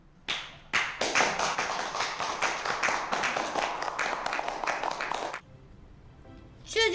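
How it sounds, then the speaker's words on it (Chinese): A small group of people claps in crisp, distinct, fairly quick strokes for about five seconds, then stops abruptly, leaving a quiet room before a short, brighter sound at the very end. "鼓掌。"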